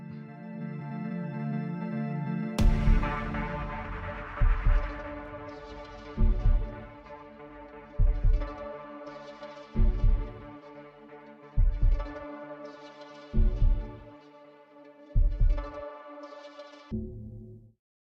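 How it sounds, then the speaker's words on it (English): Heartbeat sample in an FL Studio music remix, thudding in a steady, evenly spaced rhythm of deep beats under sustained synth tones. "there's the heartbeat bit"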